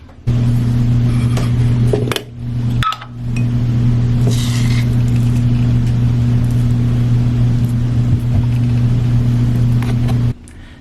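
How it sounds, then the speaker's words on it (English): A clothes dryer runs behind a wall with a steady low mechanical hum that drones continuously, with a couple of brief dips and faint clicks. "On the other side of this wall is also my dryer, and it has been going all day"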